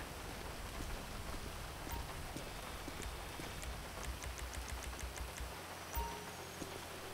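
Steady rain falling in Grand Theft Auto V, a continuous soft hiss with scattered light ticking drops, heard alone at moderate level throughout.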